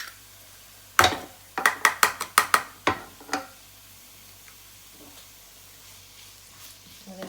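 Two garlic cloves sautéing in a pan: a low, quiet sizzle runs under a quick string of sharp clattering knocks from a utensil against the pan, then the frying continues more softly.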